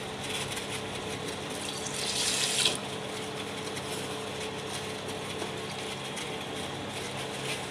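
Two and a half bowls of water splash briefly into a pot of spinach khichdi for under a second, a bright rushing pour set against a steady low background hum.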